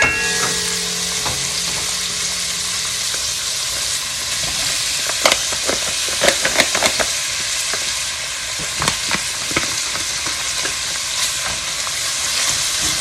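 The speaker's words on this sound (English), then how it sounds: "we're just gonna fry this for a little bit" Flaked salmon from pouches frying in a pan, with a steady close sizzle throughout and occasional sharp taps and scrapes of a utensil stirring.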